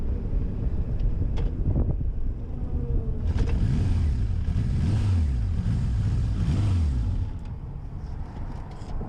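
A Voyager XII engine turns over and revs in uneven rising and falling surges, loud and close under steady wind noise, then drops back near the end without settling into an idle.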